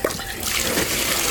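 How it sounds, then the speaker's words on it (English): A submersible pump pushing water through a hose during a tankless hot water heater flush, a steady rushing, gurgling flow that starts after a brief knock and continues evenly, close and moderately loud. "Just gonna pump all that water continually through the hose here."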